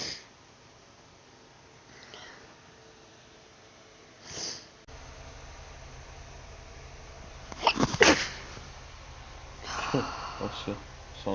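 A small run of human sneezes: a muffled one early, then a loud burst of sharp sneezes and sniffs later on, with voices murmuring in between.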